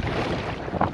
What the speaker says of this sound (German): Ich bin zwar immer noch genervt von dem Wind